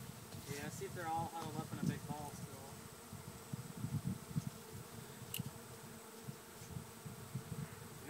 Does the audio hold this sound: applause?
no